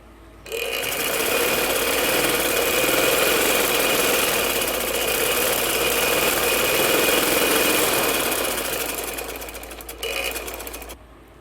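A sewing machine runs steadily for about ten seconds while stitching the second line of a double seam on a gents' shalwar crotch, a loud, close, continuous motor whir and needle rattle that slows and stops near the end.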